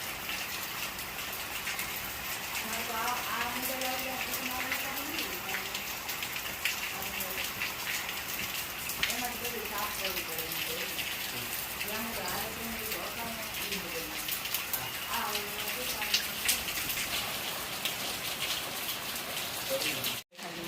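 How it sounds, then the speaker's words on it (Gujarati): Steady heavy rain drums on the roof of an auto-rickshaw during village flooding, a dense continuous patter throughout, with a person talking over it. "રિક્ષા ઉપર એવી રીતના વરસાદ પડે ને ચોખ્ખો ક્લિયર દેખાય છે"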